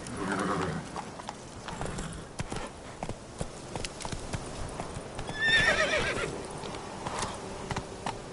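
A horse in The Witcher 3 video game gallops with rapid clip-clop hoofbeats and lets out a clear neigh midway, close and moderately loud with no talking.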